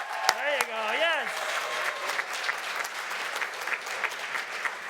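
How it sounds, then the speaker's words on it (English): Nursing graduates applauding themselves under a tent at a college commencement, steady crowd clapping after a voice speaks briefly at the start. "Come on, give yourselves a round of applause."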